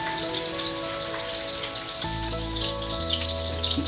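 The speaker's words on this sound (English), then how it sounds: "And you're just gonna let it fry for a few minutes." Thin steak frying in a pan, a dense steady sizzle and crackle of hot oil with a low hum of a burner underneath, close and continuous.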